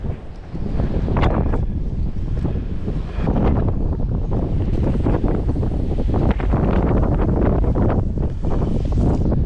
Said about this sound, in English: It really is quite windy tonight